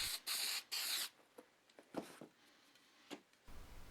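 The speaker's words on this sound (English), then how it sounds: "spray both your template and your material with the spray glue" Spray glue hisses out of an aerosol can in two short bursts onto a template and material, followed by quieter handling sounds and light rustling.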